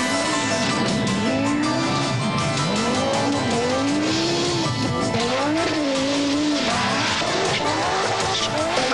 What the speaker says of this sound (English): rally champion Michel Mouton drives a Quattro to overall victory at Pikes Peak